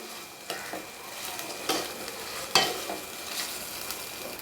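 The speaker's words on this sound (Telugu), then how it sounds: "ఆ రొయ్యలు కూడా బాగా నూనెలో వేగనివ్వాలి" Prawns fry in hot oil in a pan with a soft, steady sizzle, broken by several sharp scraping clatters as they are stirred.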